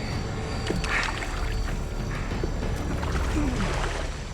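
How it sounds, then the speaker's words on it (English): A canoe paddled upriver through Amazon jungle makes a continuous close watery rush and slosh, with faint dips and gurgles of the paddle, steady and without any talk. "I paddled upriver for maybe an hour"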